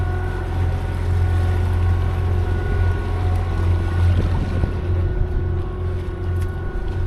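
A sailboat motoring under engine power on a cruising trip, its steady low drone and hum running continuously and fairly loud, with some wind noise over the microphone and no talk.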